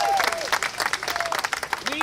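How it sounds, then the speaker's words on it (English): Lively crowd applause for a senator at a Medicaid expansion rally in Virginia, uneven and close, with whistles and shouting voices over the clapping for about two seconds. "How about a round of applause for his leadership in the Senate?"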